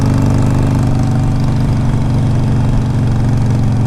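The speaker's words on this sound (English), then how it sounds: "Engine sounds good." A 2007 Harley-Davidson 883R motorcycle engine idling close by, a loud, steady low rumble with an even throb that holds constant throughout, no voices.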